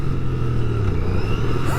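A Royal Enfield Bear 650 motorcycle accelerates hard close by, its engine note loud and steady as the revs climb over the full stretch.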